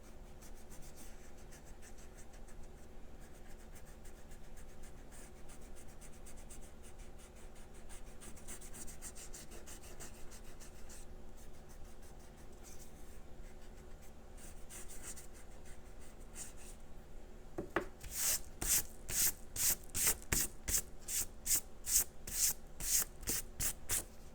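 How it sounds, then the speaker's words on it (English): A rubber eraser scrubs pencil marks off paper, with soft scratchy rubbing at first that becomes a run of quick, loud rhythmic back-and-forth strokes near the end, close up and with no talk. "I'm going to grab my eraser and erase all of my pencil marks"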